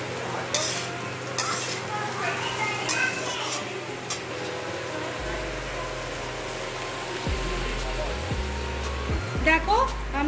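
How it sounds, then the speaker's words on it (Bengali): Fried potato pieces with sugar stirred in a pan for chire pulao, with close sizzling and repeated scraping strokes of a spatula, a low engine-like hum running underneath. "আলুটা ভাজা হয়ে গেছে, আমি এর মধ্যে পরিমাণ মতো মিষ্টিটা দিয়ে দেবো।"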